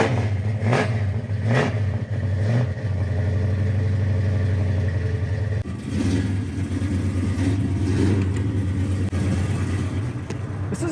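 A muscle car engine fires up outdoors and settles into a deep, loud rumbling idle, with several sharp revs blipping early on and more throttle bursts later, close and steady throughout.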